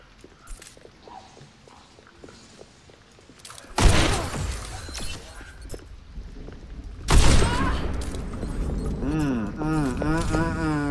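Sniper rifle shots ring out in Overwatch 2, two sharp, loud cracks several seconds apart, each followed by a ringing tail, among lighter game sounds and footsteps, with a voice talking over it.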